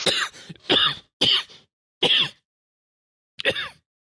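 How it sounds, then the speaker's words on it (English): A person coughs five times, close and loud, in rough bursts with a longer pause before the last one, and no other sound between them. "It's just a bit of a cough."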